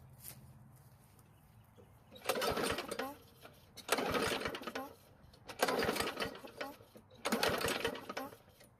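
A Poulan Pro lawn mower fails to start: four loud pull-cord cranking bursts, roughly a second long each, are spaced about every one and a half seconds, and the engine never catches between pulls.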